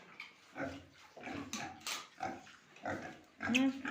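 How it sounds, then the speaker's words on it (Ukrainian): Pigs grunt and snuffle as they eat nuts, with low rough grunts and chewing noises in irregular bursts, fairly close and quiet. "Циганські свині люблять горіхи."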